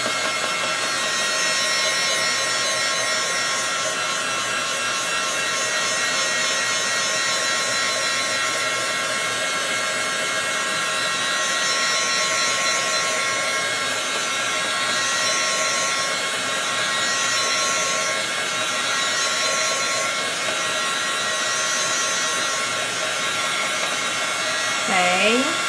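A heat tool blows continuously to dry Versamark ink, a loud, steady whirring hiss held close for the whole stretch, with a brief shift in pitch right at the end.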